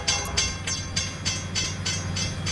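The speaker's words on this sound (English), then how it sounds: "The train is about to slow down. It sounds pretty loud." An RO-scale B&LC train running on the Horsethief route from Summit Yard to Garibaldi Yard, with loud, steady clickety-clack of wheels over rail joints repeating rhythmically over a continuous low rumble.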